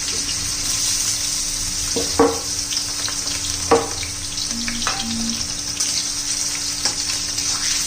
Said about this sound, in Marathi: आता तेल गरम करण्यासाठी ठेवलेलं आहे त्याच्यामध्ये आपण हे टाकून घेऊ तळून घेऊया